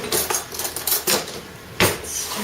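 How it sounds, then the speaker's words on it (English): Metal kitchen utensils clinking and clattering close up as a spoon is picked out from among them, a quick series of sharp rattles and knocks with a louder clank near the end. "I'm going to grab a spoon."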